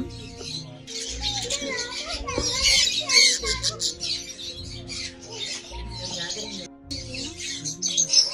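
Many small birds chirp and tweet busily close by in an aviary at a pet sanctuary in Bangalore, while people talk over them throughout.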